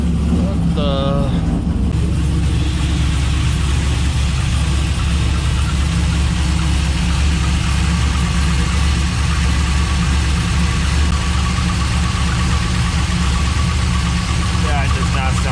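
Car engine idling with a knocking lifter, a loud, steady low rumble with a faint repetitive tick. A person speaks briefly over it at the start.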